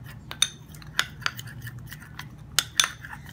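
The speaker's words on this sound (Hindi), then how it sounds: "इसको अच्छा सा मिक्स करेंगे कि सारी चीजें यकजान हो जाए।" A spoon clinking and scraping against a bowl while stirring a homemade vitamin C cream mixture, with a few sharp metallic taps spaced irregularly over a low background hum.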